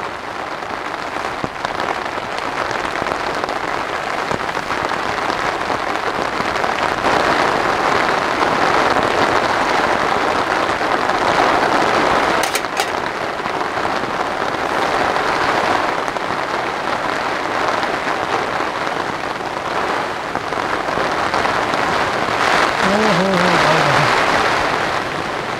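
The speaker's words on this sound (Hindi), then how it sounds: "साहब क्या बारिश हो रही है, ऐसी हवा अगर चलती रही ना टेंट भी उड़ सकता है" Heavy rain pounds steadily on a camping tent during a cold storm, a loud, dense and unbroken roar of drops lasting throughout, with no voices.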